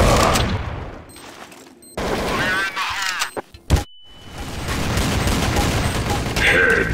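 Gunfire in Counter-Strike: Source on the de_dust map, with sharp bursts of shots, a loud single crack near the middle, and game announcer and player voices around them.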